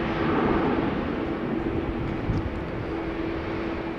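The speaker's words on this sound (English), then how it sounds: "a privilege-style rental A321 flying for KLM and destined to go to Madrid is lining up here, flying as KLM flight 1503" A KLM Airbus A321 lining up on a wet runway at Amsterdam Schiphol in rain, a steady broad engine roar with a low droning hum, constant and fairly loud throughout.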